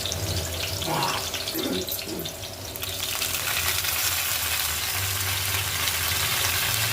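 Mint leaves dropped into a hot frying pan, setting off a steady, close sizzle that swells into a broad hiss and holds for several seconds; a few faint clinks come first.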